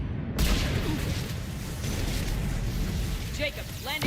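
A big explosion bursts in the video game Mass Effect 3, a sudden boom followed by a long roaring rumble and scattered crackles, with brief voices near the end.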